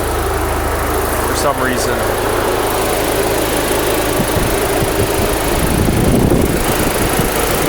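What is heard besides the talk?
car engine cooling fans running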